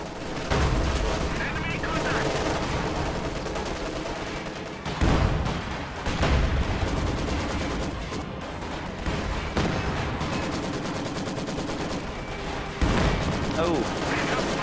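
Maxim machine guns fire in a World War I-style video game battle, with dense, continuous overlapping bursts of gunfire and heavy booms layered together throughout, loud and unbroken, with a commentator talking over the action.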